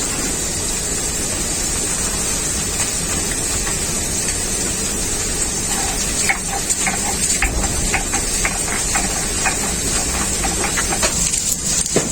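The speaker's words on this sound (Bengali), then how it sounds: "আমি ভাজা মশলাটা বেটে নিই" Fried spices ground into a paste by hand for a koi fish and pumpkin greens dish, heard as a steady rough grinding under a constant background hiss, with sharper rhythmic scraping strokes in the second half.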